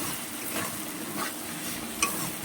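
Banana flower, potatoes and prawns are stirred in a pan after a splash of water, giving a steady soft sizzle with spatula scrapes and a small metallic clink near the end.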